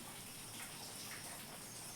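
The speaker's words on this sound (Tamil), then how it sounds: "மழையில் அப்படியே தப்புன்னு மழை வந்துனே இருக்குது" Heavy rain falls in a Tamil village during the wet season, giving a steady, even hiss of water with no gaps. It is faint and quite far off, and no one speaks.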